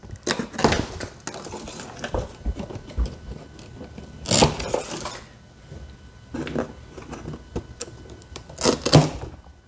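A KEXMO tactical pocket knife slices through material in a series of sharp cutting and snapping sounds, with louder bursts around the middle and near the end and quieter rustling handling noise in between.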